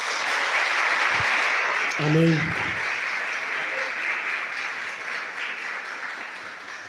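A congregation claps steadily at a church youth congress, with continuous applause throughout and a single voice calling out briefly partway through.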